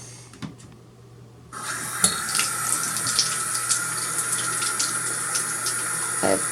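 A shower is turned on after a quiet moment, and its water then runs in a steady, loud hiss with a few small knocks.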